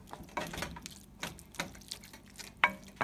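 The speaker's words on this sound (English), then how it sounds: "Stir it all around" A spoon stirs a thick mixture around a pot, giving repeated soft scraping and squelching strokes at an even rhythm, close and fairly loud.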